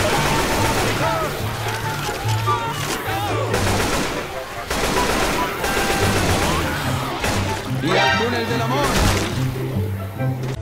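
Rapid gunfire from Left 4 Dead 2, with bursts of shots crackling through a dense, continuous game soundscape alongside music and voices, loud throughout the clip.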